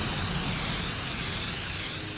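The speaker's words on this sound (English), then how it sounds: "Today we're going to be doing some spray painting." Steady, close hiss of a spray paint can spraying without a break, loud and continuous.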